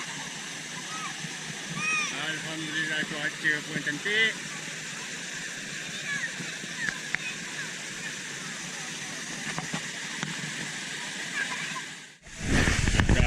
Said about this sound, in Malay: Itu dia suasana di air terjun Sungai Dua Karak.